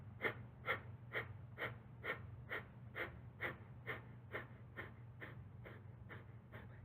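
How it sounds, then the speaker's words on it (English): Kapalbhati yoga breathing: a steady series of about fifteen short, forceful nasal exhales in an even rhythm, close and clear over a low constant hum, with no talking. "We'll take a deep inhale, and then we make short little exhales."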